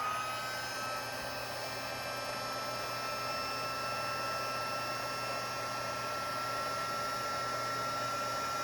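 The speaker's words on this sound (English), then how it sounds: "Then I'm going to grab my heat tool. I'm going to heat this up." A handheld heat tool blows hot air steadily onto silver embossing powder on a textured card, a loud continuous whooshing roar with a faint high whine that runs unbroken throughout.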